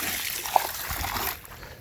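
Algae Fix solution, mixed with water, is poured into a koi pond in a soft, close trickle and splash that lasts about a second and then tapers off.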